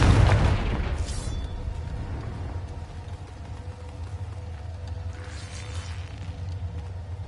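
Confringo fire spell exploding in Hogwarts Legacy, a loud booming burst at the start that rumbles and fades into a lingering low crackle, with a faint second flare later; no talk.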